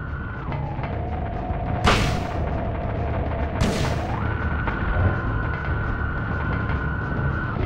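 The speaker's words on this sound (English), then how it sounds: "I'll use a shotgun." A shotgun in the Silent Hill video game fires two sharp, loud blasts about two seconds apart over a steady droning hum and tonal background.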